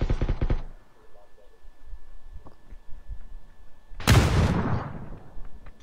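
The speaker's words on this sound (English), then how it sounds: "Throwing a nade in there." A grenade detonates in the video game PUBG with one loud, sharp blast late in the clip, after a quieter stretch of faint game noise and a short burst of earlier gunfire-like sound.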